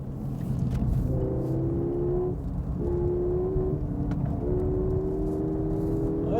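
A Peugeot 308 GTI with a 200-horsepower 1.6-litre turbo engine accelerates from inside the cabin, a steady low drone rising in pitch through several gear changes with brief dips between them.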